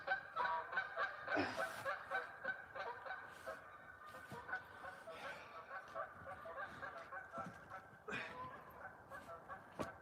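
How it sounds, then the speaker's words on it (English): Geese honk outdoors near firewood work, a sequence of nasal honks rising and falling at moderate distance, some calls overlapping, with a brief louder burst near the end. "Comes the geese."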